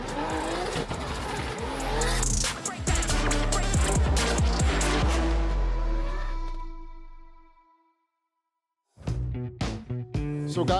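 Drift cars at the Elmia show in Sweden roar and rev loudly with squealing tires for about seven seconds, then fade away. After a brief silence the engines and tire screech return close by. No one speaks.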